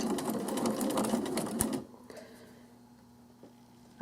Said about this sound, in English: My machine is set for a straight stitch for teeny tiny stitches.